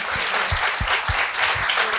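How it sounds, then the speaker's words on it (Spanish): Church congregation applauding during a Sunday service, a steady wash of many hands clapping at once with a few low thumps, dense and continuous throughout. "Denle un aplauso al Señor."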